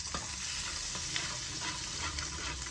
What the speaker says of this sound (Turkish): Şimdi bunu bir karıştırıyoruz.